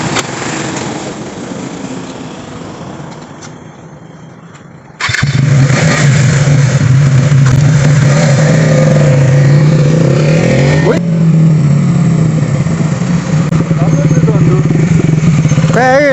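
A motorcycle engine starts and runs loud and close, a steady rough idle building into sustained revving with a brief dip partway, after a quieter stretch of background noise and clatter.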